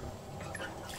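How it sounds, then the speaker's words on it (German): Hot water gushing from a pipe after a valve is opened in a point-and-click adventure game, a steady, fairly quiet liquid rush and trickle with faint dripping over about a second, no voices. "Jo, jetzt geht das heiße Wasser"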